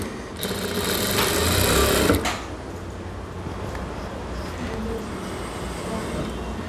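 A sewing machine stitching the lining edge of a blouse runs in a close, buzzing burst for about two seconds, then stops and leaves a low hum of room and distant traffic.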